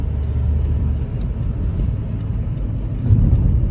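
Steady low rumble of heavy road traffic on National Highway 44 during Kumbh Mela pilgrim travel, vehicles droning continuously at close range with a slight swell near the end and no talking.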